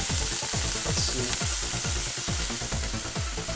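Vegan pot pie filling bubbling and sizzling in a pan, a close, steady frying hiss with rhythmic low bubbling pulses repeating about every quarter second, no voices.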